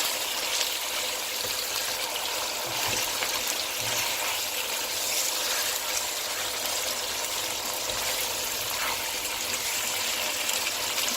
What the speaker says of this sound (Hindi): पानी आपने इतना इसके अंदर ऐड करना है जितना कि सालन आपको गाढ़ा या पतला चाहिए।